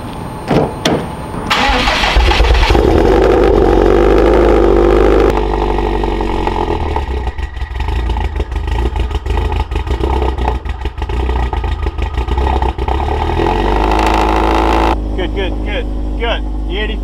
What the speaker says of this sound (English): E85 cold start, 2000 cc's. Like I said, pretty good cold start.